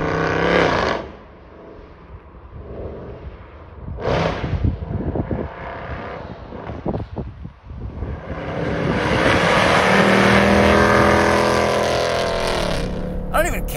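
Mercedes C63 507 Edition V8 engine and exhaust, revving and roaring loud and close with surges and a sustained high-rev pull, under a voice at times.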